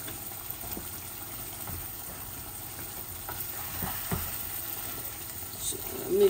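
Lamb chop curry cooking in a pan with curry powder just after tomato puree goes in, giving a low, steady frying sizzle with a few soft stirring knocks throughout.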